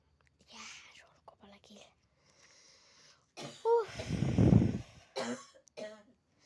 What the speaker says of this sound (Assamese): মায়ে কাঢ়িব লাগিছে মাৰ কাহ উঠিছে